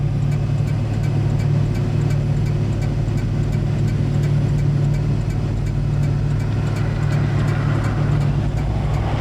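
A Chrysler Turbine Car idles at a stop sign with a steady low hum and a high turbine whine, accompanied by a faint regular ticking throughout.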